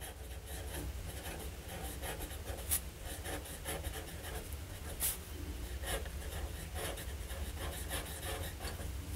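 A Kaweco Sport fountain pen with a broad nib and Diamine ink scratching softly across paper in continuous strokes, close and quiet, with two faint taps along the way.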